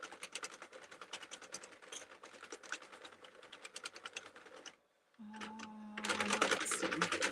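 A hand-cranked circular knitting machine runs fast with a rapid, rhythmic clattering of needles, close and busy, pausing briefly before resuming amid a low hum, with a voice talking at times.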